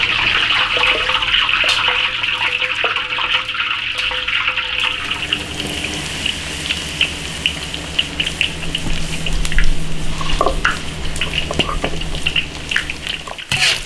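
Braised beef bones crackle and hiss as they deep-fry in a wok of hot oil, a steady, dense sizzle that runs close and loud throughout.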